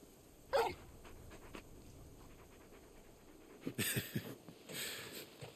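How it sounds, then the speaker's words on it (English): A dog in Final Fantasy XVI panting in a few short, breathy bursts, quiet and close over a low, steady game ambience with no talk. "You're just a big puppy, aren't you? A very big puppy."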